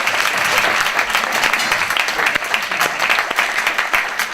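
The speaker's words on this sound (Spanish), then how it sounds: "Un fuerte aplauso, por favor." An audience breaks into loud, dense applause, a steady wash of many hands clapping close and filling the whole stretch, with a few voices mixed in.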